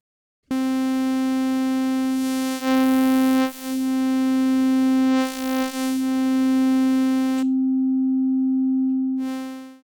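Yamaha MODX M AN-X synth voice with oscillator 3 level raised, a steady bright sustained tone with swelling timbral sweeps, stopping briefly before a short final burst; loud and close, no talking.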